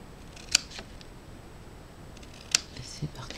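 Scissors snip cardboard for a small Carambar sweet box, two sharp, fairly quiet cuts about two seconds apart against a hushed background.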